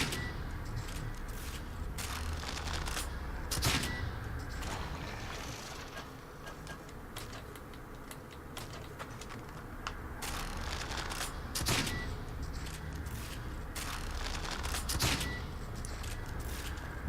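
Explosive bolt rounds fired in The Evil Within on Akumu difficulty, a series of sharp blasts scattered through a dense, continuous game soundscape with creaking and rumbling. Several impacts stand out, with no talking.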